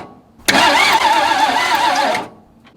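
A 1961 Ford Falcon left abandoned to rot, primed with gasoline and brake parts cleaner, cranks once for under two seconds with a loud, rhythmic starter churn that stops abruptly without catching.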